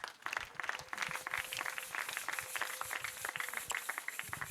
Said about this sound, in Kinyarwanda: Reka twongere Imana amashyi tuyishimire